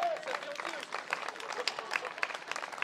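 Brief crowd applause at an outdoor political rally in Domrémy, dense clapping over a few seconds with cheering voices mixed in.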